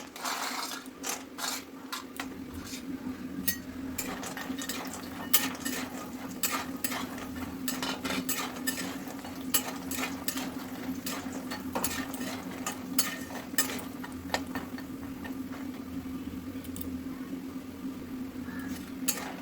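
Fritters (bora) fry in hot oil with a steady, soft sizzle broken by scattered small crackles and occasional utensil clicks, continuous and fairly quiet throughout.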